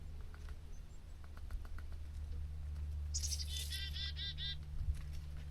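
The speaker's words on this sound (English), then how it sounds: "I want one of these chickadees to land on me." Chickadees call from a garden with a short burst of bright chirps partway through, heard over a steady low hum.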